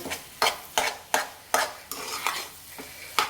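Egg bhurji is stirred in a pan with a utensil, giving repeated scraping strokes in a steady rhythm over a soft, constant sizzle of frying, close and clear with no voices.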